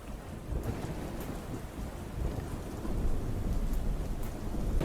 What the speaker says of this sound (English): I should incorporate some sounds of thunder and lightning